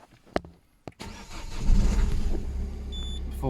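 A Peugeot 308 1.6 HDi diesel with a glow plug preheating fault starting up: a couple of clicks, a brief crank, then the engine catches and settles into a loud, steady low idle, with faint beeps near the end.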